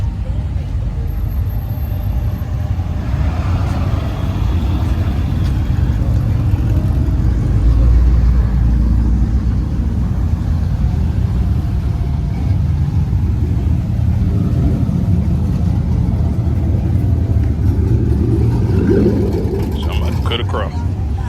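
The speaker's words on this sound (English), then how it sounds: "He got a big ass Chevy truck." A lifted base-model Chevy truck rumbles with a loud, steady low engine drone at an Arlington, Texas car meet, with people talking over the noise throughout.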